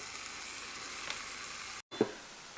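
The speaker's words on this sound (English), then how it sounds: "Now I'm going to brown this up" Ground beef taco meat browns in a hot pan with a steady close sizzle and hiss, broken by a short gap and then a soft clack of a utensil as the meat is stirred.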